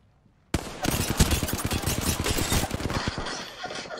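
An enemy's gun in the video game Apex Legends opens fire abruptly after a moment of quiet, and rapid automatic bursts ring out loud and close for several seconds.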